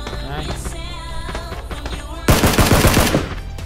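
Rapid video game gunfire bursts loud and close, a dense rattling volley kicking in abruptly over a steady music and game background.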